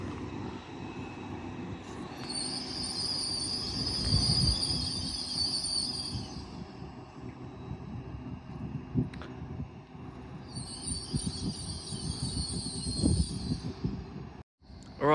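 An LNER Class 801 electric train passing through York station on the East Coast Main Line, with a steady rolling rumble of wheels and two spells of high, whining motor tone, heard at moderate distance with no talk.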